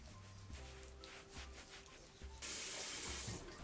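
Tap water runs steadily into a sink during a face rinse at home, growing louder and fuller partway through as the flow splashes more strongly, with no talking.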